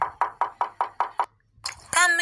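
A knocking sound effect added in the InShot editing app: seven evenly spaced, crisp knocks on a door in quick succession, then a brief pause before a voice speaks.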